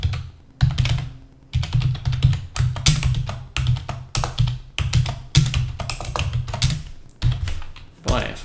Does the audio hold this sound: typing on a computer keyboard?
yes